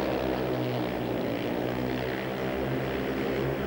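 Speedway motorcycle engine at full throttle on the final lap of a 1992 British Final heat, a steady, loud droning roar that holds without a break and with no voices over it.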